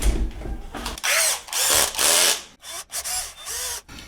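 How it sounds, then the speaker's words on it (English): A power drill bores 6 mm holes into the casing of a vintage Philips N 4502 reel-to-reel tape recorder, whirring in several close, loud bursts of a second or so with brief pauses between them. "Simply by drilling holes, 6 millimeters."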